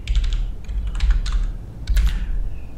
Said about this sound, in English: let me just control shift plus plus so it will zoom